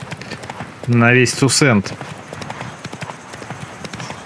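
Horse hooves clip-clopping in The Witcher 3 game, a steady trotting rhythm under someone talking, with a brief loud harmonic burst in the middle.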